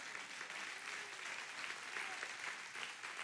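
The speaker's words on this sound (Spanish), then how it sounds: "Den un aplauso a Dios por eso." A church congregation applauds during a Spanish-language sermon, a steady, dense wash of clapping that holds evenly for a few seconds at moderate distance, with no voice on top.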